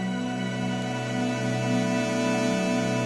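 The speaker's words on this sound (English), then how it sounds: "grab an LFO and put on the fine pitch and then do it ever so slightly." Sustained synth pad with a slight LFO fine-pitch vibrato, a steady dense tone that wavers gently in pitch, even in level with no talking.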